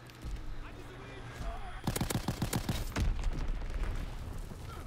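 Rapid bursts of gunfire in Call of Duty WW2 multiplayer, a rattling volley of about ten evenly spaced shots followed by a few more heavy reports, set over a steady game-ambience hum.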